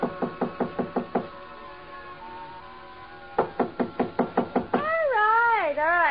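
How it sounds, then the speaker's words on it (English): Knuckles rap on a hotel suite door in two brisk bursts of about six evenly spaced knocks each, loud and close, with a gap between, followed by a voice speaking. "So I tried knocking."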